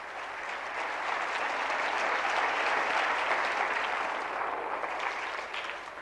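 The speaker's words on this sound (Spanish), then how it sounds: "Denle un aplauso al Señor" A church congregation applauds during a sermon, a dense, steady wash of clapping that swells and holds for several seconds before tapering slightly at the end.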